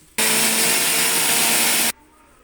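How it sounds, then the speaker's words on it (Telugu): A mixer grinder blending ginger chutney with a little water whirs loudly at a steady pitch for almost two seconds, then cuts off abruptly. "మళ్ళీ మిక్సీ పెట్టుకోవాలి"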